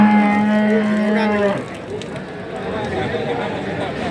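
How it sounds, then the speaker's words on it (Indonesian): A young Limousin-cross cow at the Tuban cattle market lets out one long, loud moo lasting about a second and a half, followed by quieter market background noise. "Nah, ini sapi ini."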